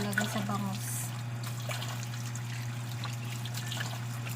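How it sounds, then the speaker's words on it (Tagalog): Baguio beans rinsed under running tap water, a steady trickle and splash close by, with someone speaking briefly at the start. "Hugasan po natin mabuti guys ang gulay."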